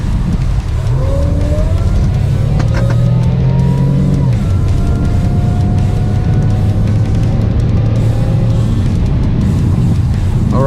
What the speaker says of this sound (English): we're going to do a quick wide open throttle and see if we get that vibration